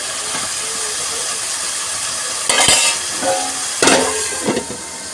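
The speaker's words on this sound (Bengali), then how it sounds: "আলু ভেজা বসিয়েছি" Potatoes fry in a pan with a constant close hiss of sizzling oil, broken by a few louder bursts of crackle and stirring.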